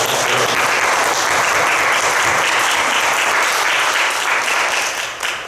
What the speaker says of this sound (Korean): 우리 박수 한번 해주시죠.